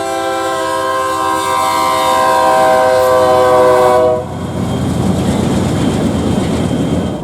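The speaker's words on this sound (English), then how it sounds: "here we got the BNSF coming through Chelsea" A BNSF freight train rolls through Chelsea, Oklahoma, its horn sounding in long, loud, sustained blasts. The horn cuts off and the rumble of the passing rail cars carries on steadily.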